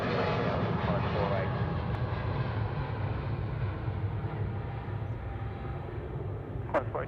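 An Air New Zealand A320neo jet rolls for takeoff on runway 34 right at Sydney Airport, a steady, loud broadband engine roar holding for several seconds, with talk over the top.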